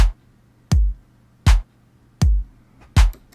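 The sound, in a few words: layered clap samples in a beat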